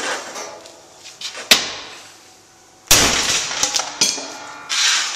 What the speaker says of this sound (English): I'm going to hit this with a hammer as hard as I can